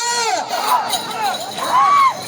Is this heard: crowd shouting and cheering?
yes